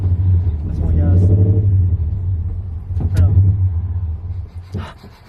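A supercharged FRS/BRZ/86 engine revs in two rising pulls over a deep rumbling idle, close and loud, with a person speaking briefly.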